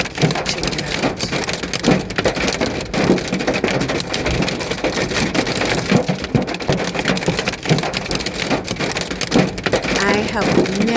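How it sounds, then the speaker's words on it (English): A severe hail storm pounds a highway in Orlando, Florida, where semi-trucks, cars and vans have stopped, the dense loud clatter of hailstones hammering surfaces continuously and close for the whole stretch. "we are having a severe hail storm."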